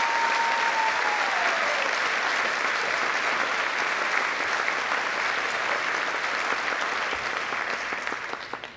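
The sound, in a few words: welcoming round of applause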